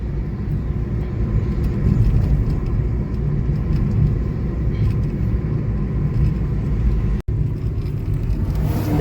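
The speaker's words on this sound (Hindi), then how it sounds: "इतनी भारी मात्रा में इन सड़कों पर गाड़ियां चलती है।" Heavy traffic on roads at night in Arwal makes a loud, continuous rumble of passing cars and engines, broken by one brief dropout near the end.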